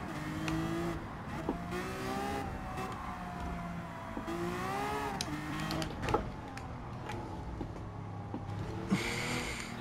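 A Lamborghini V12 Vision GT drifting in Gran Turismo 7, its engine note rising and falling through revs with layered whine and tire noise, continuous and fairly close.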